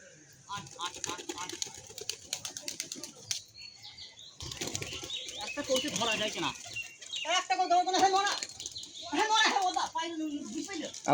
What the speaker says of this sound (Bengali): ঘুরবে ঘুরবে পায়রাটা ঘুরবে